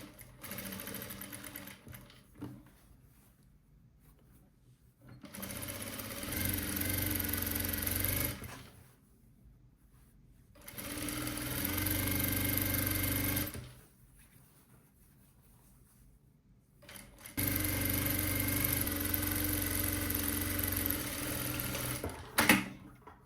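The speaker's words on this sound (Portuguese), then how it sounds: "deixo a agulha abaixada e venho costurando essa parte aqui" A sewing machine stitching a pillowcase runs in three steady mechanical bursts of several seconds each, close and loud, separated by quiet pauses, with no talk.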